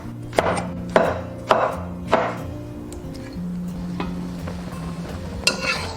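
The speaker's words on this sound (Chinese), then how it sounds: "再把它切成小块" A knife chops a peeled tomato into small pieces on a board. Four distinct chops land about half a second apart, then a softer scrape and a final tap, close by and clear, without talking.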